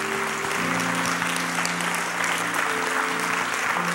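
A church congregation gives a praise clap during a Sunday service: a full, steady burst of clapping throughout, over sustained musical tones.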